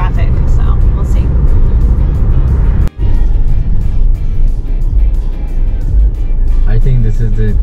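Road traffic in the Bahamas, with cars driving close by in a continuous loud rush of engine and tyre noise that briefly drops out once, while people talk over it.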